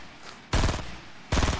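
In Fortnite, two loud bursts of rapid gunfire land close together, each a dense, blunt rattle of shots separated by a short quiet gap.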